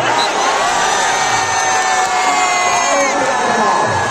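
Large crowd cheering and shouting loudly and continuously at a Hamirpur team's volleyball semi-final match, with excited voices and whoops blending into a dense roar.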